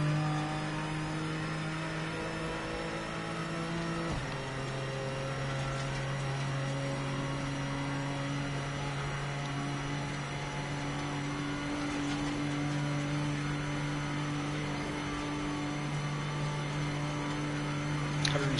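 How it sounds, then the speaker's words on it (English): In the racing game Project Motor Racing, a BMW M4 GT4 on the Nordschleife holds a loud, steady engine drone, shifting gear once and climbing through the revs in a continuous close-up cockpit sound, with no voices. "watch me struggle to wrestle the M4 GT4 around"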